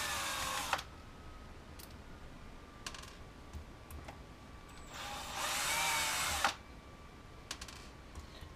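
A power drill set to its lowest torque drives screws into a DJI 450 Flamewheel drone frame in two short whirring bursts, a brief one at the start and a longer one later, with small clicks and taps of handling in between.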